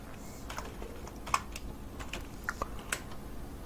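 Computer keyboard keys clacking as HTML code is typed, a few scattered sharp taps with quiet gaps, close and moderately faint over low background hum.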